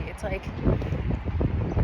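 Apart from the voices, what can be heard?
strong wind outdoors in New York City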